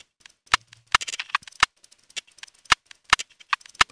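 A pitched-up drum groove loop with no kick drum: crisp, sharp, clicky hits in a fast, busy rhythm, with bright snappy accents standing out among lighter ticking ones, close and fairly loud.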